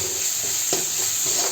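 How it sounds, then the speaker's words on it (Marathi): Ginger, garlic and green chilli paste with turmeric sautéing in a pan, a bright continuous sizzle with a couple of soft stirring scrapes, close and without talk. "घालूया ह्याच्यात आलं लसूण आणि हिरवी मिरचीची पेस्ट आणि त्याला छान परतून घेऊया"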